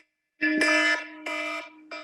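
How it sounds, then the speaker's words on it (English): A timer buzzer sounds at a public meeting. It blares in three loud, harsh, steady bursts, the first long and the later ones shorter, with nothing else over it. "Just under the buzzer."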